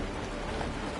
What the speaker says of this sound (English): The rain! It's raining!